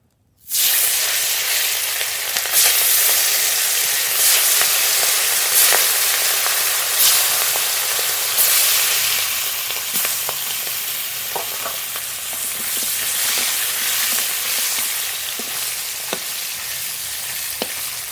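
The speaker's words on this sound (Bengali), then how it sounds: "তেল গরম হয়ে গেছে মাছ ভেজে নেব" Rupchanda fish, rubbed with salt and turmeric, frying in hot oil with a continuous bright sizzle and scattered crackles and pops, close and steady throughout, with no voices.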